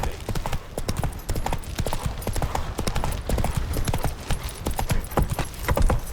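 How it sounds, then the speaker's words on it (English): Horse galloping in The Witcher 3 video game: steady, rhythmic clip-clop hoofbeats run continuously and fairly loud throughout, with no pauses. "Run, Roach"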